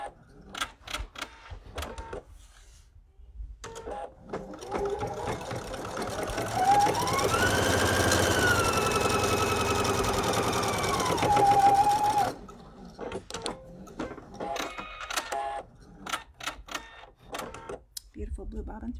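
A sewing machine stitches two decorative lines across the top of a fabric pocket. Its motor whirs in a steady sustained run of several seconds, framed by short bursts and clicks, while a person talks over it.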